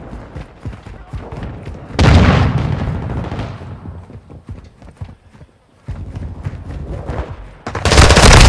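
Heavy explosive blasts and gunfire in Call of Duty: Modern Warfare II multiplayer on the Santa Sena Border Crossing map, loud booming bursts with rumbling tails separated by brief quieter gaps, game voice callouts mixed in.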